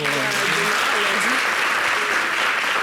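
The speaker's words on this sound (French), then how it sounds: "Applaudissez quand même." Studio audience on a French local television show applauds steadily throughout, a dense wash of clapping with a voice speaking over the first second or so.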